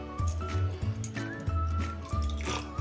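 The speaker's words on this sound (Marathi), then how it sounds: "त्यात अजून थोडंसं गरजेनुसार पाणी टाकून घेऊया" Water is poured into soaked poha idli batter in a bowl, giving close, uneven splashing and gurgling bursts with low sloshing thuds, with no talking.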